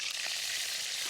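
Curry leaves hit hot oil in a kadhai over a wood-fired chulha while prawn masala is being made, giving a steady, close hiss of sizzling through the whole short moment with no talk.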